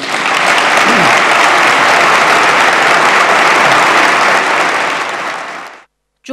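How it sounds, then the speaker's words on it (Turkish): Long standing ovation for a Republican People's Party leader at a parliamentary swearing-in, with dense, loud, sustained applause from a large audience that fades out near the end. "İzmir Milletvekili Kemal Kılıçdaroğlu partililer tarafından uzun süre ayakta alkışlandı."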